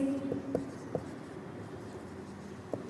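Pen or marker writing on a board during a classroom lesson, faint scratchy strokes with a few light taps, heard close under quiet room noise.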